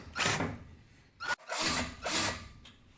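A power drill bores into bunk board wood with a larger bit in three loud, close whirring bursts, each about half a second long, separated by short pauses.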